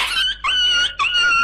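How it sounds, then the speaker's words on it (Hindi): A dog whimpers and whines in pain after being struck by a lizard's tail, then runs off. Three drawn-out, high, wavering cries sound close and clear, with short gaps between them and no talking. "जिसके बाद कुत्ता भाई रोते हुए वहां से भाग गया"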